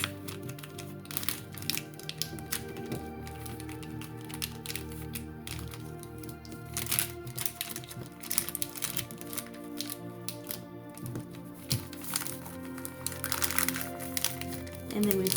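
Packaging paper crinkles and crackles as it is folded down over a candle and soap order, with irregular close crisp rustles and taps throughout, under soft intermittent talk.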